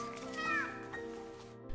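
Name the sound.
cat meowing from inside a hole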